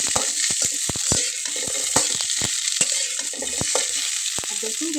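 Halved okra stir-frying in a pan for a Bengali mustard okra dish, with a steady hiss of sizzling oil under frequent sharp clacks of a spatula against the pan, close and fairly loud.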